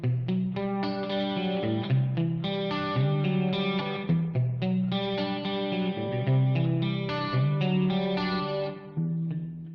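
A sustained electric guitar, played through an Axe-Fx-style modeler, rings out in shimmering chorus-soaked chords, washed in heavy reverb, playing steadily with a full, wide tone.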